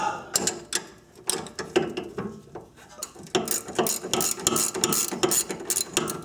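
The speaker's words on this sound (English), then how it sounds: "this is a ratcheting wrench just to make it easier now" Ratcheting wrench turning a nut on an Acura sway bar link, giving a fast run of close clicking ratchet strokes with small pauses and metallic knocks, fairly quiet and with little talk.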